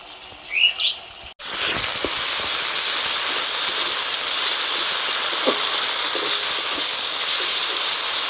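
A ground paste of dried red chillies and cumin fries in hot oil for a fish curry, giving off a loud, steady hiss and crackle that begins abruptly after a brief bird chirp and continues evenly.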